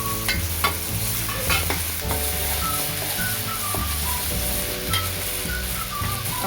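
Tomato stirred into an onion-garlic masala with ginger-garlic paste, frying in a pan: steady sizzle and a spoon scraping continuously, close and fairly loud, with a melodic background tune running throughout.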